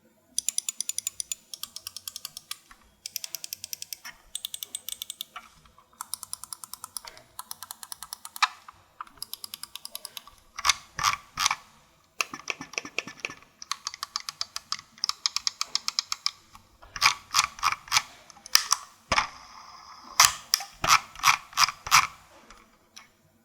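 Logitech G502 Hero gaming mouse buttons clicked in quick bursts, crisp sharp clicks in rapid runs with brief pauses, close and clear with no talking.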